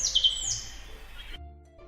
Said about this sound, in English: Who do you think is making that sound? Birds.